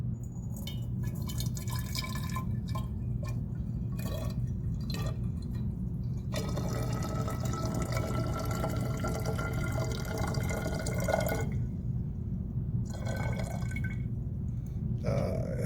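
Water is poured into a bottle during a cellular respiration lab, a steady trickling splash with some brief pauses, close and alone with no talking.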